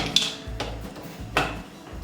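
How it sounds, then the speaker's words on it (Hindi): A metal pressure cooker lid is fitted and closed in a kitchen, giving a few sharp metallic clanks and scraping rubs spaced about a second apart, close by with no talking. "और उसके बाद प्रेशर कुकर को इस तरह से सबसे पहले बंद कर देते हैं।"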